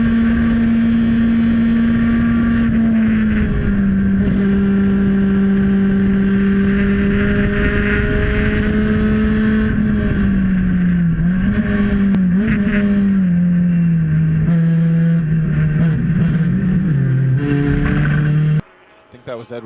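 Honda CRX and other SCCA race cars roar loudly side by side at sustained high revs through the S's at VIR, pitch shifting through the corners, close up, with talk over the top.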